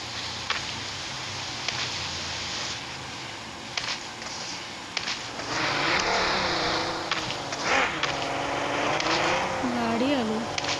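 Vehicle engine droning steadily through a PUBG Mobile match, loud and continuous with a tone that rises and bends, while a player talks over it.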